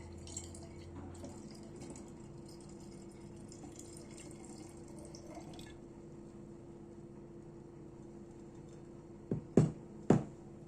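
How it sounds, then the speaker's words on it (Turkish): Strained hibiscus liquid poured into a basil sherbet, giving a steady close trickle of liquid that fades out, then two short splashy drips at the end. "şimdi süzdürmüş olduğum hibiskusu da içerisine ilave ediyorum"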